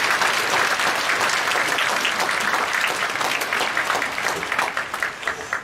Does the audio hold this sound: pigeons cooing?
no